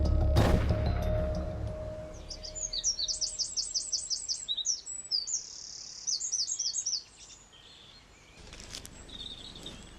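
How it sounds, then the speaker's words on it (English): A great spotted woodpecker gives rapid series of high, sharp chirping calls in repeated bursts, following a single heavy knock at the start, fairly faint against a quiet backdrop. "It is a great spotted woodpecker."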